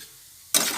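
Masoor lentils sautéed with onion and garlic in a pan start up abruptly with a loud burst of sizzling and stirring after a brief quiet moment, continuing steadily to the end.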